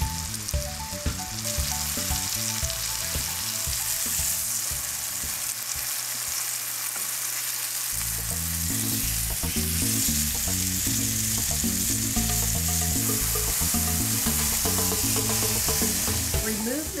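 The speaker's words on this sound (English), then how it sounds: "I'm cooking the veal pieces 2 at a time. This allows very even cooking and no crowding." Veal pieces fry two at a time in a skillet, a loud, steady sizzle with bursts of crackle and spatter running throughout, while background music plays underneath.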